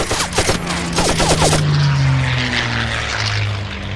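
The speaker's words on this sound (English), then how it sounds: "the first wave of 70 Hellcat fighter planes approached the outer reef of Truk Lagoon" World War II Hellcat fighter planes approach with a loud propeller engine roar and a descending droning pitch, with bursts of gunfire-like rattling at the start.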